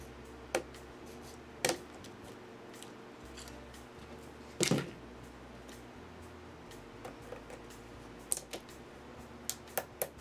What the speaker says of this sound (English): These are very sharp and can get into little corners. So this is what I'm using to just trim a little bit.